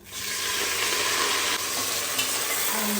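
Onions, coriander and mint fry in a pan for a tomato rice, a steady loud broadband sizzle holding throughout with a brief dip midway.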